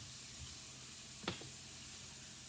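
Chicken fries in a hot pan with a soft, steady sizzle, faint and continuous, broken by one brief clatter or knock partway through, with no talking.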